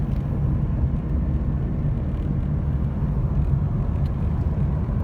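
A car driven on narrow city streets gives off a steady low engine and road rumble from inside the cabin, constant and moderately loud throughout, with no talking.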